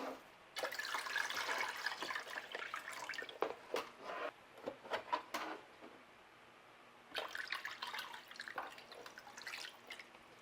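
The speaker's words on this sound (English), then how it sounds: "I'm going to add them to some water, and then we're going to pour this water." Water mixed with plant nutrients is poured into a hydroponic growing machine, a soft splashing and trickling that runs in two stretches with a brief quieter gap of drips between, close but low in level.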